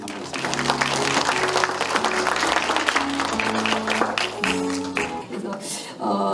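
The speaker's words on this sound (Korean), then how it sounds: "큰 박수로 맞이해 주시면 감사하겠습니다" Audience applause welcomes a professor to the podium at a human rights seminar on elderly care, a steady dense clapping that fills the room throughout, under a sustained musical tone, tapering off near the end.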